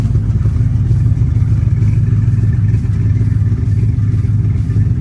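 A Pontiac Trans Am engine runs steadily at idle, a loud, close, continuous low rumble with no change in pace.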